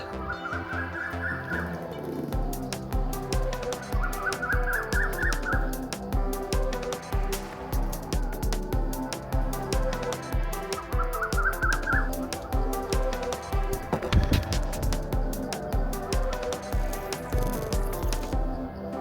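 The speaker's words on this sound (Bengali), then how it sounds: "মাঝে মাঝে কোকিলের ডাক শোনা যাচ্ছে" A cuckoo calls in a hill forest near Rangamati's Rajbari area, giving three short rising call phrases spaced several seconds apart over a continuous background bed.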